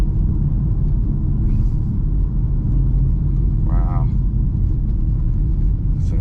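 A Chrysler 300 SRT cruises on the road, its engine and exhaust making a loud, steady low rumble and drone inside the car throughout.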